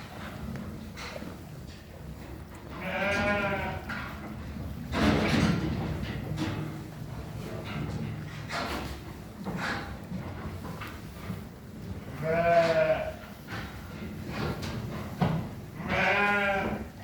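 Sheep bleat several times, a few loud nearby calls spaced apart, over a low background of shuffling and farmyard movement.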